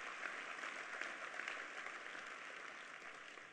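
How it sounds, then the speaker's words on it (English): Dense, steady applause from a luncheon audience honoring the mayor at a leadership event, a continuous wash of many hands clapping at even loudness for several seconds. "Give a round of applause for your mayor for her outstanding leadership."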